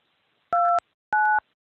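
Two short telephone keypad DTMF tones, each a clean dual-pitch beep about a quarter second long, sound about half a second apart against a quiet background.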